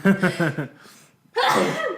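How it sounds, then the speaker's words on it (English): One sharp, forceful sneeze bursts out after a brief stretch of talking and a short pause, loud and close. "I have to sneeze."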